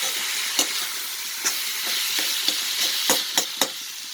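Tomatoes and curry leaves sautéing in a pan for country-chicken curry, a steady sizzle broken by several sharp stirring scrapes spaced unevenly, close and moderately loud with no talking.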